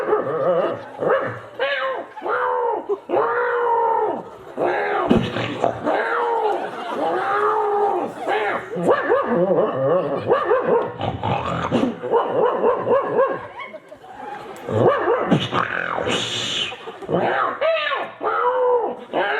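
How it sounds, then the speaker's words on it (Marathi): Several dogs bark and yip in quick, overlapping bursts at close range, with whimpers mixed in and people talking loudly around them. "आता इथे कुत्रे बी आणले तुम्ही."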